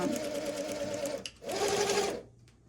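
A sewing machine back tacks a seam on leather sleeves in two steady, close bursts of stitching separated by a short pause, with quiet room tone after the second run.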